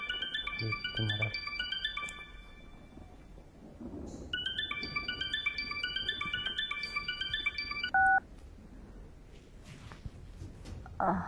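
A phone call being dialed: rapid sequences of short electronic keypad beeps in two runs, followed by a brief ringing tone, with faint room noise behind.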